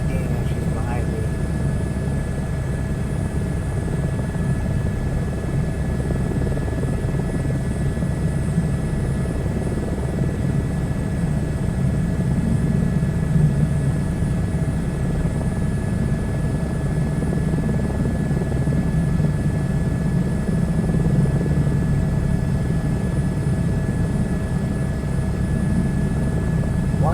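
A rescue helicopter with a hoist in Microsoft Flight Simulator 2024 holds a steady low rotor and engine drone, constant and close, throughout.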